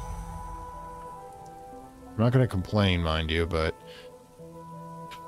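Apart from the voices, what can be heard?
rain in the video game Book of Hours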